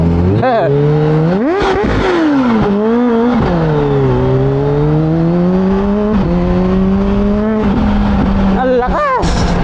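A 2024 Kawasaki ZH2 motorcycle in sports mode accelerates hard, its engine note climbing steeply through repeated gear changes, loud and close throughout, with people exclaiming over it.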